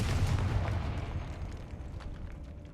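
A Confringo explosion spell in Hogwarts Legacy goes off as a deep, rumbling blast that booms loudly at first and then slowly fades away over a couple of seconds, heard on its own.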